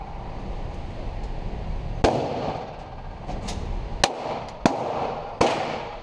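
Gunshots at an outdoor shooting range: four sharp, loud cracks spaced a second or two apart, each standing well above a steady background rumble, with no talk.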